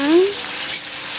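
Pork hitting hot oil in a pan for caldereta, a dense sizzle with stirring; a short rising whistle-like tone sounds at the start, then the frying hiss carries on steadily.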